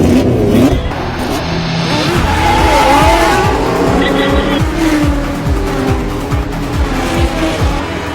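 Race car engine roaring and revving through repeated gear shifts, with tires squealing and skidding along the track, loud and continuous in an Iron Man 2 racing scene, with faint voices underneath.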